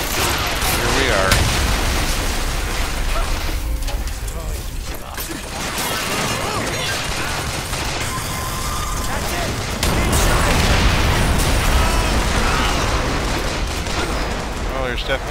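Dense, continuous gunfire from many weapons in a battle in the video game BioShock Infinite, with rapid shots and mechanical clatter layered into a loud, unbroken wall of noise.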